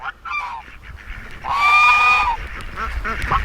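Farm geese and ducks honking and quacking at close range, several loud calls with a long sustained honk in the middle, briefly overlapping.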